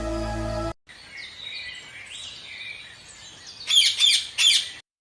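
A pet parrot calls out in chirps and squawks, starting with a loud harsh burst, then a run of varied warbling whistles, and ending with several sharp, louder squawks near the microphone.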